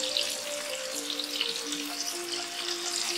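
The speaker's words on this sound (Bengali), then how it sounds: "সামান্য একটু অল্প জল দিচ্ছি যাতে মশলাগুলো তেলে পুড়ে না যায়" Turmeric and chili powder sizzle in hot oil as a little water is added to keep the spices from burning, giving a steady bright hiss with watery bubbling and faint tonal whistles throughout.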